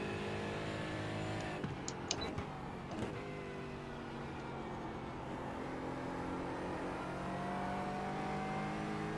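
A GT4 race car engine at Okayama in the iRacing simulator holds a steady, droning tone under throttle, with a brief burst of clicks and a small bump near the middle, moderately quiet and without talk.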